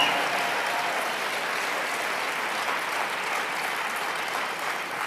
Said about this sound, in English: Let's give all the presenters a tremendous round of applause who've come up and created value.